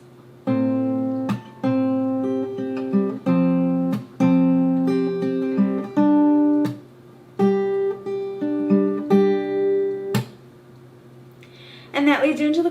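An acoustic guitar picking pattern from a song played near full speed, brisk plucked notes with recurring percussive string slaps, close and prominent, no voices.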